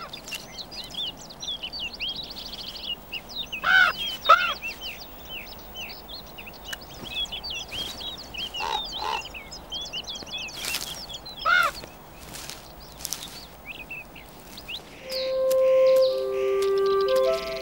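Young common ravens call for food from a nest high on a limestone cliff face, giving repeated harsh croaking calls in scattered bursts over faint background, with a sustained tonal sound near the end.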